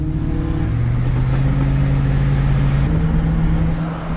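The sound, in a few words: supercar engine revving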